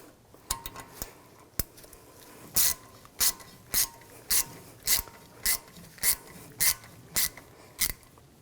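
A ratchet snugging down the rotor screw on a 2007-2013 BMW X5 front brake; a rapid series of regular metallic clicks in even bursts, close and clear, with no talk.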